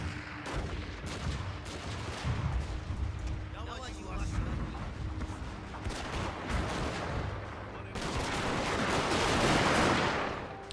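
Rapid bursts of Gatling gun fire from a Fall of the Samurai battle, the Satsuma side's guns rattling in repeated volleys under ongoing talk, with a louder, denser stretch of fire near the end.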